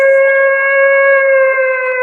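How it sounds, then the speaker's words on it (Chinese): An air-raid siren blares across a fortress in an animated scene, a loud, steady wailing tone with layered harmonics that holds continuously for about two seconds with no speech over it. "一时间，整个堡垒防空警报响起，"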